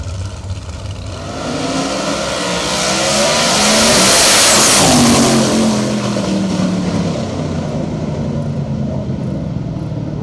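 Drag racing cars launching side by side in a shootout race at a dusk-to-dawn event, a loud roaring engine blast that builds as they pass close, peaks, then fades into a sustained distant drone.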